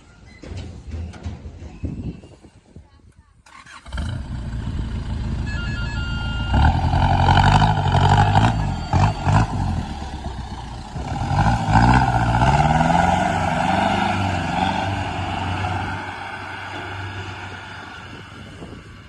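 A Thai e-taen farm vehicle being tested for its engine and drive system before delivery, the engine starting up after a short pause and then running loud and close with rising and falling revs under load.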